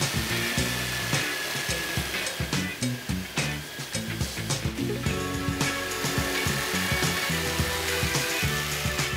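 Hand jigsaw cutting a clamped casting pattern, a loud continuous buzzing saw with rapid rhythmic pulsing strokes and fluctuating pitch as the blade works, no voices.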